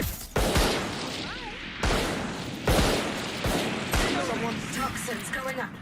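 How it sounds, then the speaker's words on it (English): A swarm grenade deployed during a Valorant match, heard as sharp repeated bursts and bangs like gunfire, loud and close, with a few chirping tones in between. "Placing swarm grenade. Swarm grenade out."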